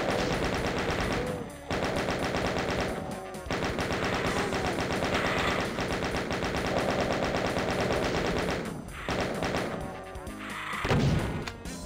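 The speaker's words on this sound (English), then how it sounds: "the chain gunner is really annoying" A chaingunner enemy firing in Voxel Doom 2: loud, rapid continuous bursts of gunfire that fill the clip, broken by a few short pauses.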